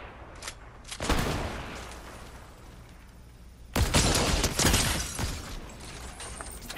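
Gunfire in the Fortnite video game comes in two loud bursts of rapid shots, the first starting about a second in and the second, denser volley a few seconds later, with quieter game ambience between.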